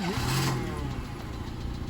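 A car engine starts with a brief rising whir, then settles into a steady, loud, close idle rumble.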